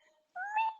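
A yoga teacher's voice mimics a cat's meow during a children's class, a single short rising-then-falling call lasting about half a second, close and clear after a brief silence.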